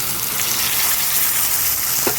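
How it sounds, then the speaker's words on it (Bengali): Potatoes fry in hot oil until reddish, giving a loud, continuous, close sizzle with a faint scrape of stirring just before the end and no voices. "আলুটা একটু লাল ভাজা হয়ে গেছে, এবারে দিয়ে দিচ্ছি বেটে রাখা মশলাটা।"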